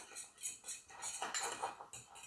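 A marinade of orange zest, orange juice and dry mustard is stirred in a dish, with quick, light, rhythmic clinks of a utensil against the bowl, close and fairly quiet.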